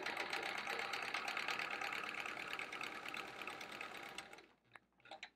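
A sewing machine runs steadily and loudly while free motion quilting a chevron quilt, its rapid stitching hum continuing for about four seconds before stopping abruptly, followed by a couple of faint clicks.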